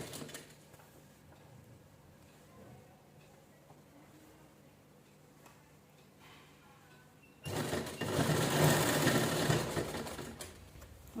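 A sewing machine stitches a cushion cover, quiet ticking and patter at first, then a loud, dense run of rapid stitching near the end.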